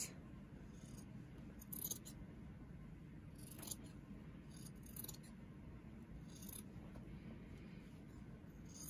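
Scissors snip through fabric to trim bulk from the seam allowance while a Santa suit is being sewn. Small, quiet, close cuts come in an irregular series over a low background hum, with no talking.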